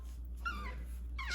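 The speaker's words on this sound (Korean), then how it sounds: "오, 짖었어." A white Pomeranian puppy gives a few short, high whimpering yelps close by, two separate bursts with a quiet pause between them and steady low hum underneath.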